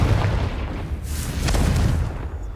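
A Confringo blasting spell from Hogwarts Legacy goes off as a heavy, rumbling game explosion, loud and bass-rich, with a sharper burst about midway through a continuous booming roar.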